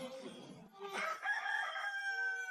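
A fiery golden rooster beast in an anime crows once, a long, strained cock-a-doodle-doo that rises and holds a bright, sustained final note. Close and clear, following a brief rustling lead-in.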